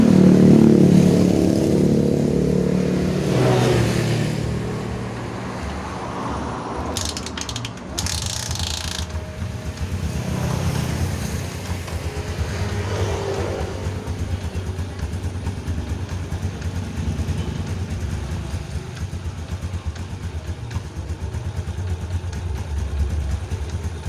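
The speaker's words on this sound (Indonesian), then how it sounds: "Sekarang kita coba nyalakan." A Honda Jupiter MX motorcycle, freshly rebuilt with a newly assembled cylinder block, radiator coolant, oil and exhaust fitted, fires up loudly with a mechanical clatter, then settles into a steady, rattly idle close by with no talking.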